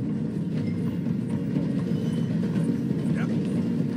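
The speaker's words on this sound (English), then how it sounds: "The train is slowing down to go through the station." Train in the video game Red Dead Redemption 2 rumbles steadily as it slows through a station, with a continuous low rolling drone and faint rhythmic clatter, under ongoing talk.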